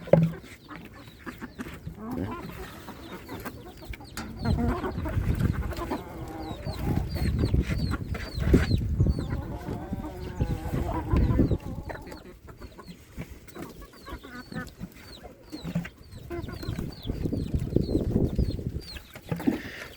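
Busy poultry chatter from a duck coop: many laying ducks clucking and quacking over each other continuously, with shuffling and rustling throughout, moderately near.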